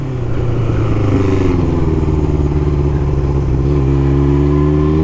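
A 1981 Honda CB900F motorcycle engine running up close and loud, a steady rumbling idle with a brief rise in revs, mechanical clatter throughout.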